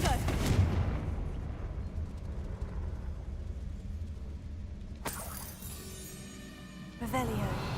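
Explosive blasts from the Confringo fire spell cast in the video game Hogwarts Legacy: a sustained rumbling burst, then sharp new bangs at about five and seven seconds over a dense, loud game soundscape.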